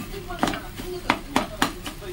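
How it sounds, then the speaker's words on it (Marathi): Fried rice being turned and stirred in a pan, a series of sharp metallic scrapes and clanks in an uneven rhythm over a low sizzle. "सगळा भात इथे पलटी करून झालेला आहे."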